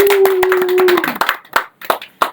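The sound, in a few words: clapping by podcast team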